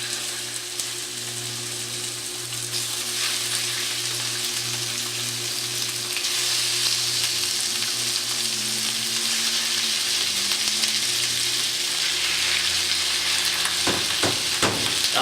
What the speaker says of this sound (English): I'm going to add some of my turkey and you should hear the sear.